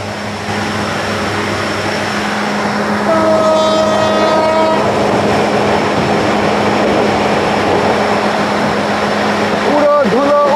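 A train running from Dhaka to Cox's Bazar rumbles loudly and continuously, with a horn sounding in the middle and brief voices near the end.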